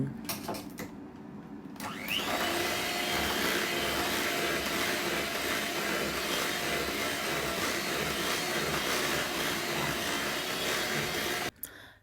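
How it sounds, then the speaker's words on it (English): Electric hand mixer whirring steadily as it blends banana peanut butter cupcake batter, a continuous loud motor drone starting after a couple of seconds of quieter handling and cutting off near the end. "you can just use your cake mixer, your hand mixer, to blend this"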